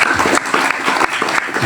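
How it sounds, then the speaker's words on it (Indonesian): Audience applause at an Islamic sermon gathering for an orphans' celebration in Central Java, Indonesia, a dense, steady wash of many hands clapping close by with no speech. "Tepuk tangan."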